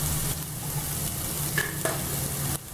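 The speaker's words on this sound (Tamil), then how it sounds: "அதுக்கப்புறமா இதில் வெட்டி வச்சிருக்க 1 பெரிய வெங்காயம் சேர்த்து நல்லா வதக்கிருங்க" Chopped onion and ginger garlic paste sauté in hot oil for prawn fried rice, producing a soft, continuous frying hiss with a few scraping stirs of a spoon against the pan.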